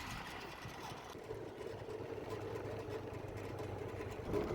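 A Honda Activa scooter engine hums steadily and faintly while riding along a bumpy canal road, a low buzzing drone with wind rumble and no voices.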